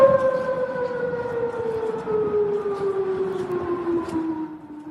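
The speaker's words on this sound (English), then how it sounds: "Those are the sirens in Bahrain" Air raid sirens wail across Bahrain during missile strikes, a loud sustained tone slowly falling in pitch, heard alone without voices.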